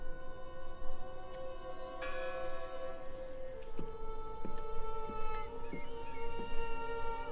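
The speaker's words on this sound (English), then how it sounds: "Listen! The bell!" A bell in the horror adventure video game Draugen tolls a few times at a distance, with clear ringing tones that sit over a steady background hum.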